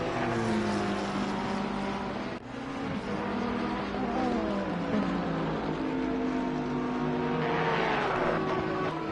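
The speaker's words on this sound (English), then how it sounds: "we'll jump on board to the 888 Porsche King of the Hills and see what he can do as he crosses the finish" A Porsche race car engine in a sim racing video game at Misano roars steadily at high revs, with gear changes and rising and falling pitch, loud and continuous.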